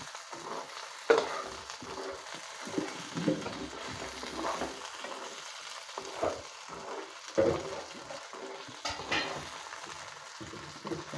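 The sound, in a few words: stirring local fish frying in a pan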